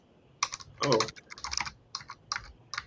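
Hard, fast typing on a computer keyboard during a remote news-show call: bursts of sharp, close key clacks in uneven clusters with brief pauses between them.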